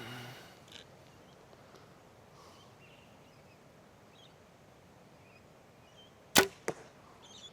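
An arrow released from a bow fitted with a drop-away arrow rest during a solo hunt in Australian swampland: a sharp close twang and whoosh followed by a second snap, set against faint outdoor ambience.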